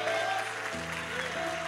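A church congregation applauding during a worship service sermon, a dense steady patter of clapping from a crowd with a low sustained tone underneath, no speech over it.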